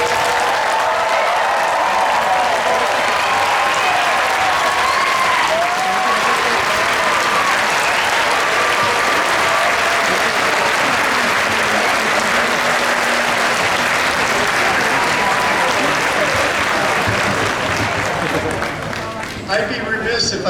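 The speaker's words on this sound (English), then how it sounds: "the audience members to congratulate and honor the graduates with one final round of applause" Sustained audience applause for graduates at a university commencement ceremony, a dense, loud wash of clapping from a large crowd that runs unbroken for about twenty seconds before tapering off.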